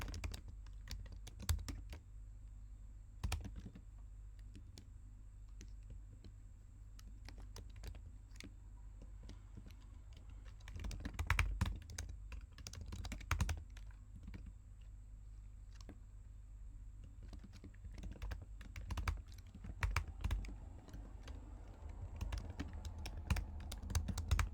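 Rapid keystrokes on a computer keyboard as code for end-to-end test selectors is typed, a steady close patter of clicks with bursts of faster typing and no talking.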